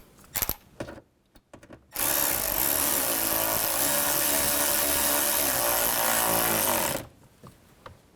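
A power drill runs steadily for about five seconds while driving screws into the front door latch of a 2000-06 GMC Yukon, preceded by a few short clicks and handling noises, close and loud with no talk.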